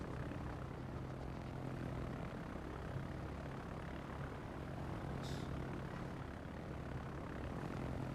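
Steady propeller aircraft engine drone from carrier planes in the naval combat game World of Warships, a continuous droning hum with low harmonic bands, unbroken throughout with a brief hiss partway.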